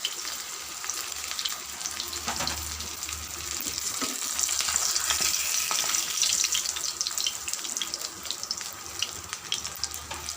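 Catfish pieces frying in hot oil give off a steady, dense sizzle with crackling that swells slightly midway, close and continuous, with no voices.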